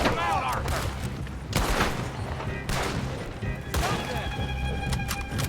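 Pistol gunshots ring out in the Red Dead Redemption 2 video game, several sharp cracks spaced about a second apart, moderately loud under game ambience.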